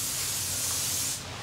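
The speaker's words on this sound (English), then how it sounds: "So I am just gonna spray some of this Orbe super fine strong hairspray." Oribe Super Fine Strong hairspray sprays in one continuous close hiss of about a second, then cuts off.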